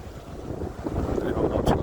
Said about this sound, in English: I really hope this video ain't coming out too windy because it is breezy